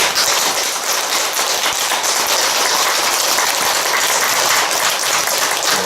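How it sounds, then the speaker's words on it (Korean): Steady, dense applause from a large crowd at a Buddhist dharma assembly, loud and continuous throughout with no pauses or voices. "우리 해주스님께 감사의 마음과 감사의 박수를 올립니다"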